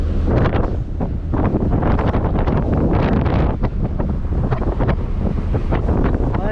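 Loud, strong wind buffets the microphone continuously on a truck journey in Europe, a rough roaring rumble with gusty surges throughout.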